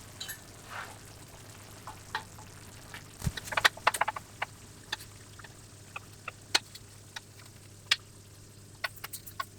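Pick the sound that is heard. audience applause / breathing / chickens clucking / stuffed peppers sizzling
stuffed peppers sizzling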